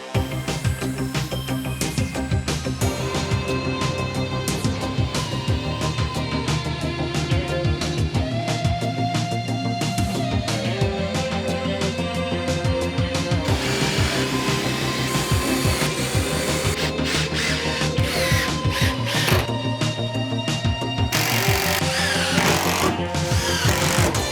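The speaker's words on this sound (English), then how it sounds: "So I'll pilot all the way around now, screw it all together" A Ryobi power drill whirs continuously into a wooden frame, in repeated bursts as pilot holes are drilled and screws are driven, loud and close.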